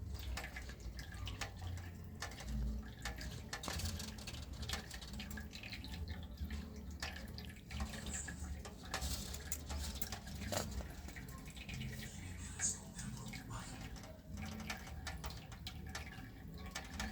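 A homemade steam engine, heated up and driving a small mill, runs with a continuous watery hiss and sputter, fairly steady and close, with faint irregular ticks throughout and no voice heard.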